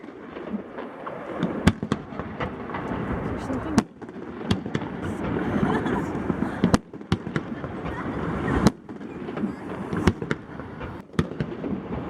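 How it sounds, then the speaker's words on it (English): Fireworks launched from a boat on the water crack and boom in sharp, loud bursts at irregular intervals, with a crowd murmuring and people talking nearby throughout. "It's like random fireworks. And they're shooting it off from those, the boat down there."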